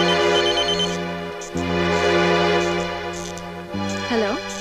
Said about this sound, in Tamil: பிரியாக்கு ஃபோன் பண்ணி பார்க்கலாம்.